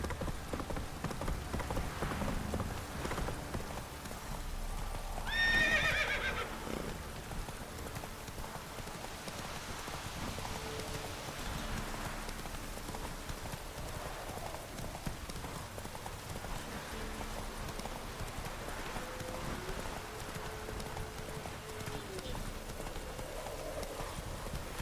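Horse hooves clip-clop steadily through rain in The Witcher 3, the mount trotting or galloping at an even pace, with a brief brighter burst like a faint whinny early on and a steady wash of rain underneath.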